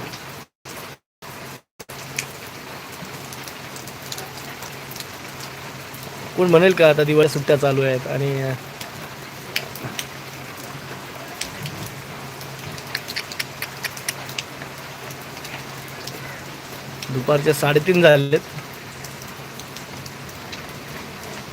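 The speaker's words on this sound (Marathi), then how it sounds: "आणि हा पाऊस जोरदार लागेल लागेल की काय माहित नाही" Steady afternoon rain patters on surfaces throughout, a continuous wash of drops, while people talk over it in two louder stretches.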